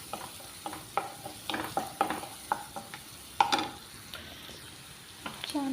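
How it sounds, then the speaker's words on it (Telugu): Onions and green chilli frying in a pan, a soft continuous sizzle broken by repeated rhythmic spatula scrapes and taps against the pan, close by. "ఉల్లిగడ్డలోని గ్రీన్ చిల్లీ కూడా వేసేసుకుంటున్నానండి. మంచిగా అంతా కలిసేలా వేయించుకోవాలంటే"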